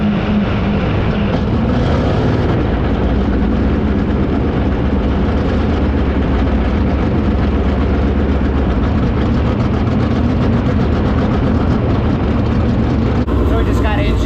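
A loud, steady low engine drone of a 410 winged sprint car warming up on a cold day at a speedway runs throughout, rough and throbbing like a heavy motor idling close by, with a brief shift near the end.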